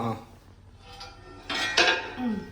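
A square dosa griddle stone is handled with a few bright metallic clinks and clatters close by in a home kitchen, with a voice speaking faintly in the background.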